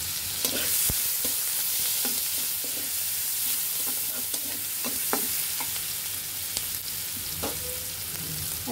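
Chopped onion and garlic fry in a pan for shrimp and Malabar spinach curry, with a steady loud sizzle broken by repeated scraping stir strokes, close and without talk.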